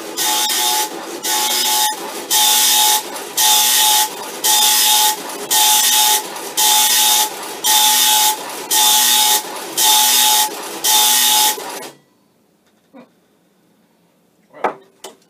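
A tractor-feed dot matrix printer on a Commodore PET buzzes loudly in a rapid series of line bursts with short pauses between them, then stops, leaving near silence and a few faint clicks.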